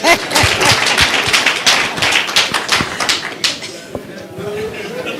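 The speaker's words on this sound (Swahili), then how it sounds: "pigeni makofi tafadhali" Dense, steady applause from an audience at a county government press briefing in Meru, many hands clapping at once with a few sharper claps standing out, fading slightly toward the end.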